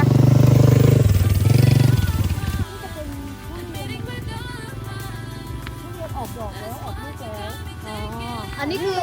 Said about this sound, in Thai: เดี๋ยวขับ ATV ชมสวนนะคะ